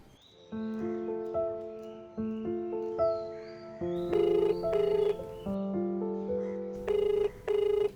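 A melodic phone ringtone plays a repeating electronic tune in short phrases, fairly loud and close, with brief gaps between the phrases.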